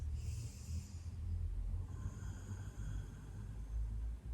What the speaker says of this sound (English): try your 5 Ujjayi breaths